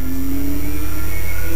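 A Nissan Skyline GTR V-Spec R34 with a turbo engine in the Gran Turismo 2 video game, its engine note loud and steady with a rising revving pitch, alone without talk.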